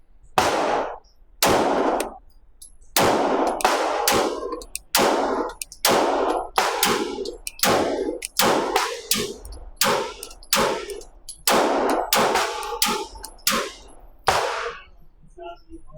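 A Gforce Arms Exodus RPX-9 9mm pistol fitted with a compensator fires about fifteen loud, sharp gunshots outdoors, first in spaced single shots and then in quicker strings, each with a ringing metallic tail.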